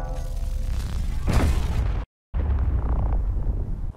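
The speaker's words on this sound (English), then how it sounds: "Let's see how many windows you need to stop a railgun and then an artillery cannon." Railgun shots slam into stacked ship windows in the Space Engineers video game, a loud booming blast with a whooshing burst, a brief dead-silent gap, then more rumbling impact noise, with no talking.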